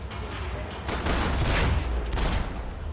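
Gunfire in the video game Max Payne 3: a dense rattle of rapid shots blending into a steady, rumbling fusillade that swells in the middle, loud and continuous for a few seconds.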